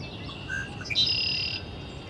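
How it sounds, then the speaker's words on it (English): A red-winged blackbird calls close by, a short bright trill rising over a steady hiss of outdoor ambience. "Got a nice red-winged blackbird close."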